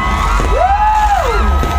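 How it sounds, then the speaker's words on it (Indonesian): A concert crowd at an open field in Punggur, Central Lampung, cheers and claps for a singer, a dense steady roar with one rising and falling whoop sweeping over it. "Boleh tepuk tangan sekali lagi, suara penonton, suaranya tepuk tangan"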